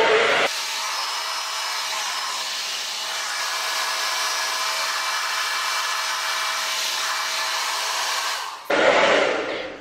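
A hair dryer fitted with a diffuser runs at full speed, a loud, steady high-pitched whir held for about eight seconds before it switches off and fades to a softer blowing hum.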